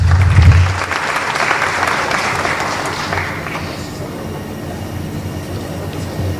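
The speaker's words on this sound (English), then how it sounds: "Let us express our profound appreciation for Dr. Mohammed Osman with a resounding round of applause" An audience at a university graduation and education day ceremony gives a loud round of applause that gradually fades into a softer patter, with no talk over it.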